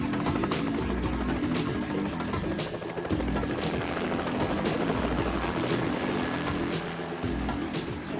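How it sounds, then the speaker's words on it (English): A firefighting helicopter flies close by over a wildfire, its rotor thudding in a steady, loud beat with a continuous engine roar throughout. "Helicopters are amazingly effective firefighting tools, as they can drop buckets of water on flames"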